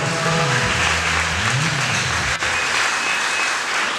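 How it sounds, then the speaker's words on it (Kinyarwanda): A church revival crowd in Rwanda applauds steadily, dense clapping filling the room for several seconds. "Reka Imana yacu tuyikomere amashyi menshi ku bw'iryo jambo tumaze kumva."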